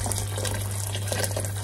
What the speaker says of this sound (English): Adding my water